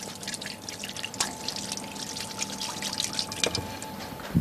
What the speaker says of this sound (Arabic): خلينا نغسل ايدينا على السريع